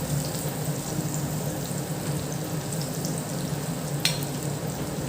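Battered cauliflower florets fry in hot oil for crispy KFC-style cauliflower, a steady, even sizzle running throughout with one brief sharp crackle near the end.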